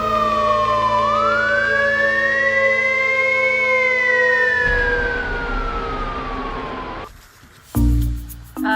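A fire engine siren wails loudly and close, its pitch sweeping up and slowly back down, before breaking off into a louder burst near the end.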